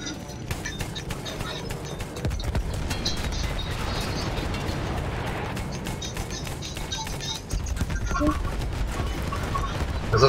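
Mounted gun in Battlefield 1, firing near-continuous rapid bursts of loud, sharp cracks at a steady fast rhythm, with a brief pause near the end before firing resumes, over clattering battle noise.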